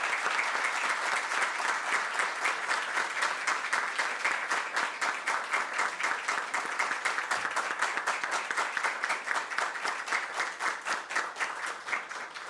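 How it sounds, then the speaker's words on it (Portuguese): Lecture audience giving a long round of applause, even and continuous clapping from a crowd heard at a moderate distance, holding steady throughout. "o meu pai, o professor João Trindade, a quem eu peço uma salva de palmas."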